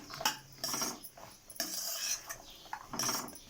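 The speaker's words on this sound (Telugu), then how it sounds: "ఈ మఖానాకి ఈ విధంగా మొత్తం పాకం పట్టే విధంగా కలుపుకోవాలండి" Makhana (fox nuts) stirred through sugar syrup in a metal pan for an Ekadashi sweet, with repeated scraping and clinking of a spoon against the pan in uneven bursts, close and fairly loud.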